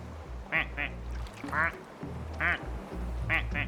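Quacking from a plastic duck in the video game Placid Plastic Duck Simulator: four or five clear, short quacks in uneven succession over a soft, steady game soundtrack.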